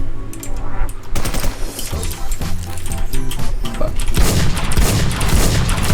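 Rapid automatic gunfire from the WarZ game, with loud dense bursts of shots rattling continuously and close throughout and heavier booming blasts toward the end.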